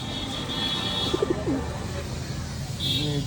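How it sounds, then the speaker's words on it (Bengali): A pigeon coos nearby, a few short soft low hoots in a quick cluster, over a steady background hum with a faint high whine and a person speaking at times. "দ্বিতীয় কবুতর"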